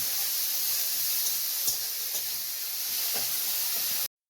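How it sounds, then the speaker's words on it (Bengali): Ginger garlic paste frying with onions in a pan, a steady bright sizzle and hiss with a few small pops and stirring clicks, continuous and close, cutting off abruptly at the end. "আদা রসুন বাটা দিয়ে ভালো করে কষিয়ে নেব"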